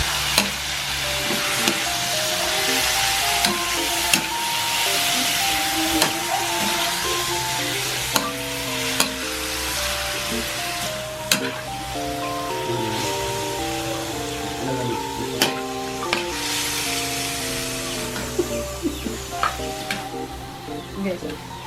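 Soy-marinated igado is stirred in a frying pan, with steady sizzling and repeated scraping strokes that run for about twenty seconds.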